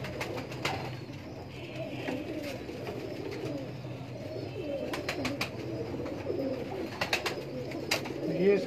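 Breeder pigeons coo together in an old-city Lahore loft, a steady layered murmur of overlapping calls up close, with a few short wing flutters and little talking.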